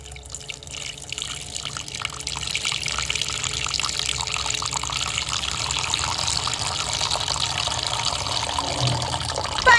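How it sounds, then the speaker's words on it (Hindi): A motor-driven flow of water pours into a toy pool. The rushing, splashing fill runs steadily and grows slightly louder across the whole stretch. "यहाँ पर मोटर चालू हो जाता है और पुल के अंदर पानी भरने लगता है"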